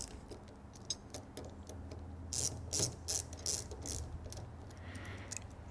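An 8mm ratchet runs new nuts down on a GM Vortec fuel meter body, giving quick repeated clicking ratchet strokes with short bursts of louder clicks, fairly close and faint, with no talk.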